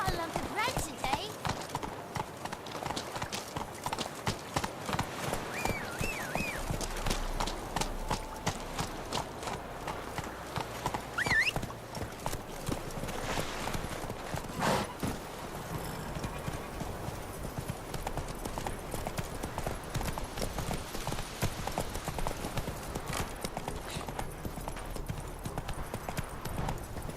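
Hooves of the horse Roach clip-clop at a steady, continuous trotting rhythm in The Witcher 3, moderately close, with game music, ambience and occasional voices over the footfalls.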